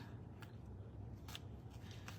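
Scissors snip at the stitching of a machine-embroidered in-the-hoop puff foam bag, giving a few faint, brief cuts spread over a quiet background.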